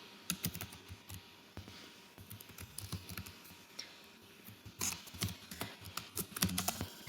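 Typing on a computer keyboard: a close, irregular run of crisp key clicks and clacks with short pauses between bursts, with no talking.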